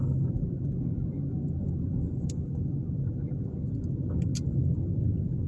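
A car drives through a residential neighborhood in South Bend, Indiana, heard from inside as a steady, low road rumble with a couple of faint clicks.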